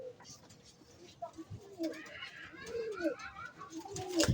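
Racing pigeons coo in soft, throaty bursts close by on a loading day before a fan race, while people talk over them with handling noise.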